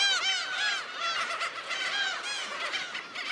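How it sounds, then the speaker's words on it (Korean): A dense colony of black-tailed gulls calls on an uninhabited island, continuously, many overlapping high cat-like mewing cries layered together, fairly close and loud with no pauses. "고양이와 비슷한 울음소리를 내 이름 붙여진 괭이 갈매기."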